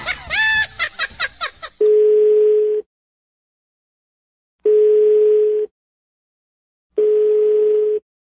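Telephone tone after a call is hung up on: three steady, loud beeps about a second long with gaps between, following a short burst of laughter and talk.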